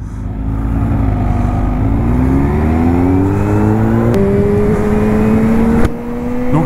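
A Kawasaki Z H2 roadster motorcycle accelerates hard, its engine note climbing steadily through the gears with two quick shifts, loud and close with no talking.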